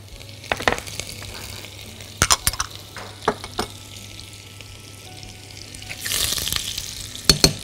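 Butter and oil sizzle in a well-heated pot as garlic soup begins, a low steady fry broken by sharp clinks of a spoon and pot and a brief louder hiss near the end.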